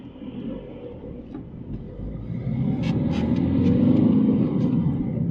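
Used Ford Focus with a turbo engine driving slowly around a car park, a steady low engine rumble and road noise from inside the cabin, growing slightly louder as it pulls away, with a few faint higher squeaks.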